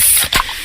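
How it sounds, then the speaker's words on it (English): A freshly opened can of fizzy Pepsi cola gives a short, bright burst of carbonated hiss that fades quickly, close and fairly loud, with no talking. "that's the sound of a freshly opened fizz-filled Pepsi"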